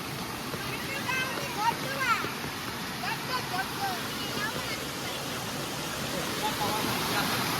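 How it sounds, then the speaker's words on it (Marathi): A waterfall on a river swollen after heavy rain roars as a steady, broad rush of water, loud and constant throughout, with faint bird calls or voices now and then over it. "हे धबधबा बघा आमचा"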